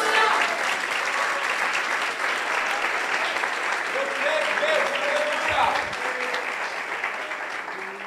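A church congregation claps steadily through a worship service, dense sustained applause filling the room with faint voices and a few tones underneath.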